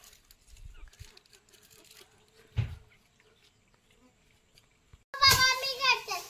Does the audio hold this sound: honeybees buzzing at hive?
yes